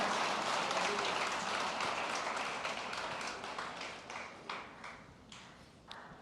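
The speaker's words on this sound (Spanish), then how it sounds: "Damos fuerte el aplauso al Señor Jesucristo." A church congregation applauding, dense clapping that fades toward the end into a few scattered individual claps, with no speech over it.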